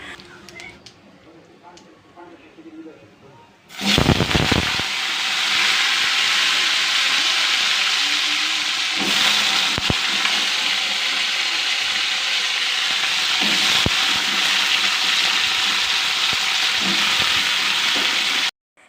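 Vegetables hit hot mustard oil in a wok with a sudden loud burst of frying, then settle into a steady hissing sizzle with occasional clatters, no voices.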